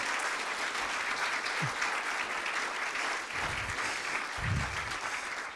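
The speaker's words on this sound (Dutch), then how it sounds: "jullie verdienen toch nog wel APPLAUS" Sustained applause from a seated audience honouring the editors at a book presentation, dense and even throughout, with a few low thumps and shuffles mixed in.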